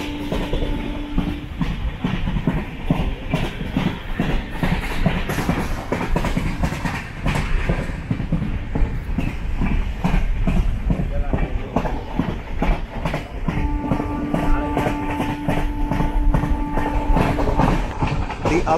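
20691 Antyodaya Express train rolling along on a Trichy to Nagercoil run, steady clickety-clack of wheels and carriage rumble throughout, with a sustained tonal hum appearing at the start and again near the end.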